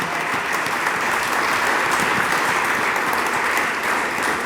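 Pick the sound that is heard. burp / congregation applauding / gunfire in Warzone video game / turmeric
congregation applauding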